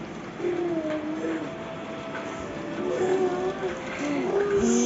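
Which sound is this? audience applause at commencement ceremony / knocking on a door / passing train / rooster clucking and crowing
passing train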